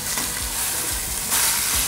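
Beef pieces searing in a pot, a loud continuous close sizzle and crackle of fat with occasional low bumps as the meat shifts.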